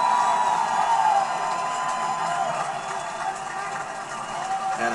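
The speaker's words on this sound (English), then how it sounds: "to a great round of applause for what he just endured" Crowd at the 2017 WinstarOnlineGaming.com 400 NASCAR truck race applauds driver Timothy Peters as he climbs out of his truck; a steady, broad roar of distant clapping and cheering runs throughout beneath continuous commentator talk.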